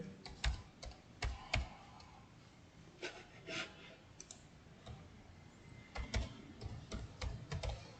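Keys tapped on a computer keyboard while entering text in a spreadsheet program, quiet scattered clicks in short bursts with pauses, no talk.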